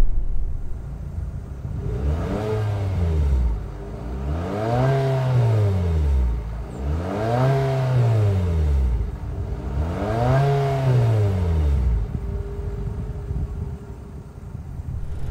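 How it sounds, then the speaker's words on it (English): The dual exhaust of a 2023 Infiniti QX50 with a 2-liter turbo four-cylinder rises and falls in four repeated revs, each climbing and dropping back to idle, loud and close. "let's hear what this thing sounds like with this dual exhaust"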